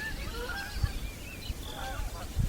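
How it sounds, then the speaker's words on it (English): A flock of geese honking as they fly over Saginaw Bay on Lake Huron, calling repeatedly at a distance, faint and scattered over a steady outdoor background. "flock of geese"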